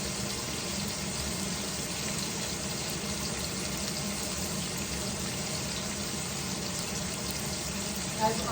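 Water runs steadily into a pot, a constant hissing, splashing stream close by with no pauses.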